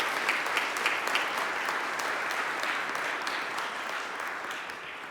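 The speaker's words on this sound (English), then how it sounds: "Give yourselves a round of applause for the incredible work that you're putting in" Audience applause at a Philly DSA general meeting, a broad crowd clapping steadily at moderate distance with a few sharper claps early on, gradually thinning toward the end.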